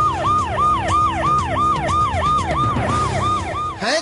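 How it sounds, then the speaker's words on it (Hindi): A red-beacon car sounds its wailing siren as it drives into a university campus, rapid rising-and-falling sweeps repeating about every half second, loud and close over the low hum of the vehicle. "लाल बत्ती वाली गाड़ी जब सायरन बजाती हुई यूनिवर्सिटी में दाखिल होती है"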